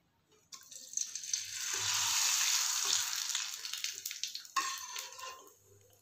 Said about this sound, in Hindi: पापड़ को दोनों तरफ से नहीं तलना है।